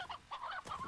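A video game rooster gives three quick, close clucks in a row, with a slightly synthetic, game-like quality.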